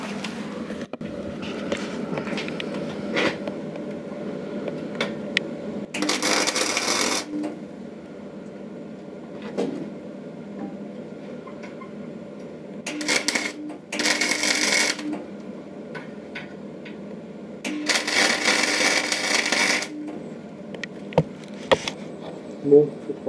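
Decastar 150E flux-cored wire welder running at wire speed 6, with three distinct bursts of harsh, crackling buzz of a few seconds each, separated by quieter workshop background.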